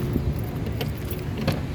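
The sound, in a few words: car keys jangling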